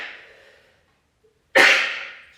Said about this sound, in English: And coming forward, gonna sneeze.